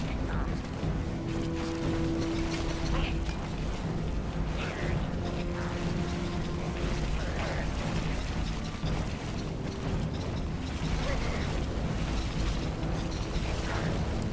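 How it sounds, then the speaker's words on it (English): A flamethrower spraying fire in Cruelty Squad, with a continuous dense roaring rush broken by small crackling pops and bursts, loud and sustained throughout. "Fire.gif that I am spraying out of my flamethrower"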